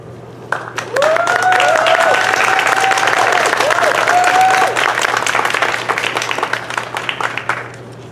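Audience applause breaks out after a speaker at a community event on farmworker pesticide exposure, a sustained, full burst of many hands clapping for about seven seconds, with a voice speaking over it early on and a steady low hum underneath.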